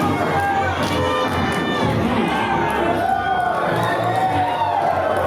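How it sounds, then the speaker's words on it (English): A wrestling crowd at the Abdallah Shrine roars and cheers in a sustained ovation for a favorite wrestler, a dense, loud wash of voices and shouts that holds steady throughout. "Mo is definitely the perennial crowd favorite here, as you can hear by the ovation"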